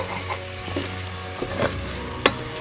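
Onions sautéing in a pan until slightly golden, a close continuous sizzle with soft stirring scrapes and one sharp clink of a utensil near the end.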